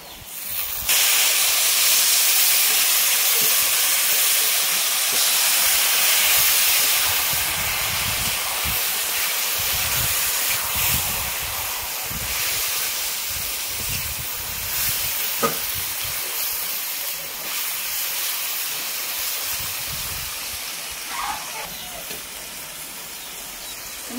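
Marinated mutton hits browned onions in a pot for Kolkata Golbari-style kosha mangsho, setting off a loud, steady hiss and sizzle that gradually settles lower over a long stretch, with no talking.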